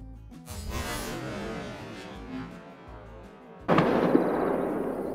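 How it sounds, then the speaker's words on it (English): A hunting rifle shot in the video game Call of the Wild: after several seconds of low ambient rumble, one loud, sudden broadband blast rings out near the end, then sustains as an echoing roll. "I'm gonna take a shot."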